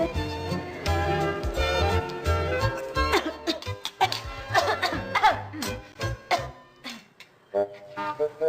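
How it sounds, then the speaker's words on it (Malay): A few short coughs break out amid a busy mix of music and chatter, with light laughter nearby. "Siapa suruh kau batuk depan makanan?"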